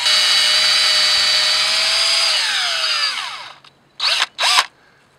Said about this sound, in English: drill into the tree about 2 inches.